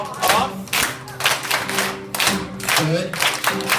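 An audience claps hands in a steady rhythmic beat at a flamenco session, loud and close, with about eight distinct claps.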